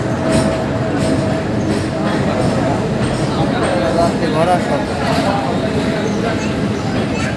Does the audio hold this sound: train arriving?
yes